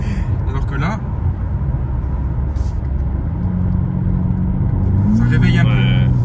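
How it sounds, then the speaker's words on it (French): Exhaust of a BMW M4 Competition with its valves open, a steady low rumble heard close by from inside the car, muffled but present throughout, with someone talking over it. "C'est l'échappement."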